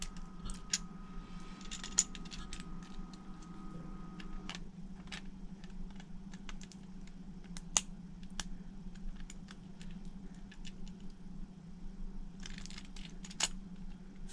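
Beyblade Burst Xiphoid Xcalibur spinning top being assembled by hand, with quiet plastic clicks and taps scattered over a low steady hum.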